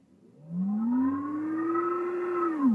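A Mahindra BE 6 electric car's virtual drive sound in its everyday mode: a smooth electronic hum rises in pitch like a motor spinning up, holds a steady tone, then dips at the end, heard alone.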